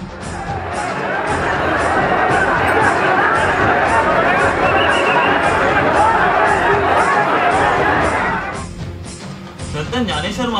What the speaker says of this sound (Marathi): पालखीच्या दर्शनासाठी सर्व भक्त मंदिराच्या आवारात गर्दी करून उभे आहेत